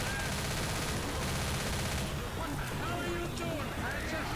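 Dense gunfire in Left 4 Dead as players shoot zombies climbing a fence, a loud continuous barrage of rapid shots blending into a harsh wash, with game noise layered underneath.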